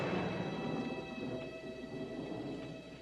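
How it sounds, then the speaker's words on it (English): A low, rolling rumble of thunder during a rainstorm, heavy and continuous at first and slowly easing off, with steady rain noise underneath and no talking. "You know what that is? That's thunder."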